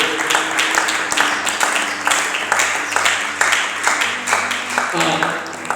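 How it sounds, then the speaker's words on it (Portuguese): A church congregation applauds with dense, steady clapping that holds for several seconds, with a voice speaking faintly through it. "Você pode aplaudir?"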